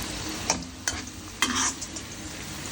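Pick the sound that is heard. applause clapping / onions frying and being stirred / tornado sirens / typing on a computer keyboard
onions frying and being stirred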